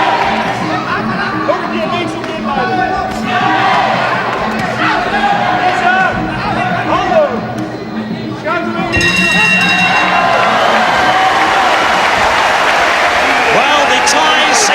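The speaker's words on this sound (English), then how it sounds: "the Thais in the crowd up on their feet cheering the world champion" Crowd cheering at a 1990 Muay Thai fight, a dense roar of voices and shouting that swells and stays loud, with a commentator talking over it.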